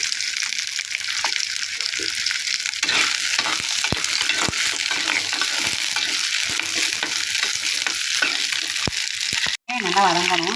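Garlic and onions sauté in a pan for onion chutney with a dense, continuous sizzle, broken by a scattering of sharp utensil taps. A brief dropout comes near the end, followed by a short tonal burst.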